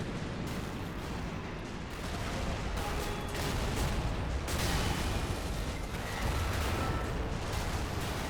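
Russian tanks and infantry firing in an Eastern Front field battle in a video game create a dense, continuous roar of overlapping shots and distant blasts with no pauses.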